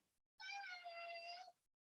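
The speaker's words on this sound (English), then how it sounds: "This is my cat Shadow, if you can hear her meowing" A single drawn-out meow from a pet cat named Shadow, one clear call lasting about a second, close and alone in an otherwise quiet room.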